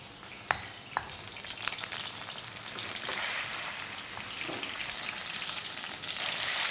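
Thai Gaeng Hung Lae pork curry with spices and pork fat sizzling and frying in a pan over medium heat, a steady crackling hiss with a few sharp stirring clicks early on, no talk.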